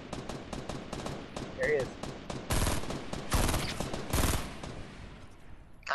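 Rapid bursts of automatic gunfire in a shooter video game crackle close and loud, growing into heavy sustained volleys midway, while players talk over the shooting.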